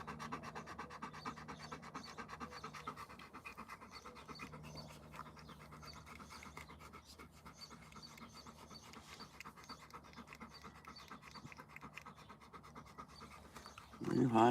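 A dog panting outdoors on a Sunday morning, quick rhythmic breaths repeating steadily and fairly close, with a louder rustle at the very end.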